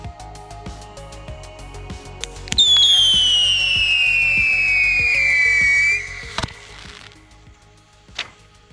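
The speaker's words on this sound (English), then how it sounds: "we were able to fire each rocket without any issues" Line rockets fired in a test launch with a loud rising whistle that falls steadily in pitch for about three seconds, followed by a sharp bang and a fainter pop, over a background of scattered ticking.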